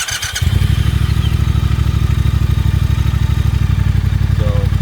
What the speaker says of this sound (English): Fire this up real quick, you guys can see exactly what it's like for the throttle input